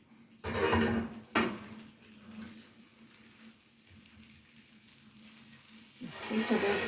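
Pork chops browning in a frying pan, with loud clattering pan and utensil bursts at the start and again near the end, separated by a steady low sizzle.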